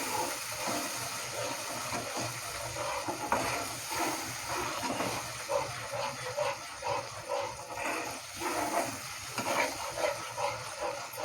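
A yogurt-based spice mix for bhindi masala is sautéed and stirred in hot oil, giving a continuous wet, bubbling sizzle with soft scraping, moderately loud and without talk.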